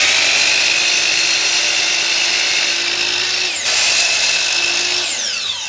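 A power drill whirs steadily, driving screws through glued boards in a woodshop, with a brief pause and restart near the end; no one speaks.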